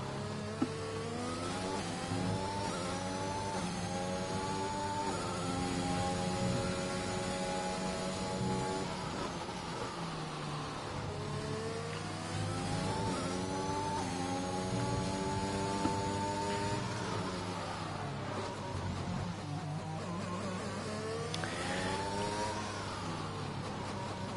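Racing car engine on a hot lap at Portugal in a racing video game, a steady high-revving whine rising and falling through gear changes and corners, loud and continuous with no talk.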